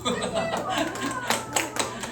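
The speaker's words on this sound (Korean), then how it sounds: "박수?" A church congregation at a Sunday worship service gives brief applause, with light, scattered clapping over a steady low hum and some voices.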